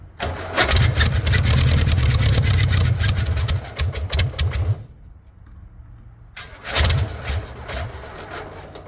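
A VW-powered rat rod cranks on its first start attempt, giving a loud, rough churning burst for several seconds. The sound stops, there is a short quiet gap, and then another brief cranking burst follows.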